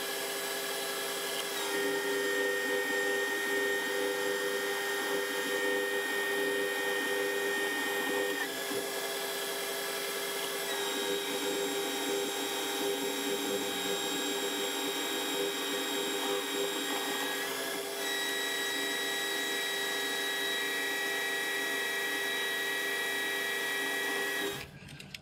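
A metal lathe reduces the end of a metal workpiece down to an inch, a steady, loud machine whine with stable tones running almost without break, then stopping abruptly near the end.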